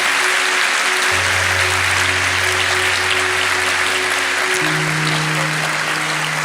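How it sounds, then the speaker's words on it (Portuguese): A church congregation applauding during a sermon, a continuous dense burst of clapping over low sustained organ or keyboard chords that shift pitch midway, steady and full throughout. "dá uma salva de palmas bem forte para o Senhor Jesus."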